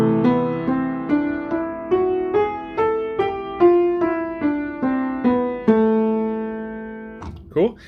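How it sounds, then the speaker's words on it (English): A melodic minor scale played on a keyboard, about a dozen single notes stepping evenly one after another, each note struck and left to decay, clear and close with no talking over it. "So if you do a melodic scale, it would sound like this."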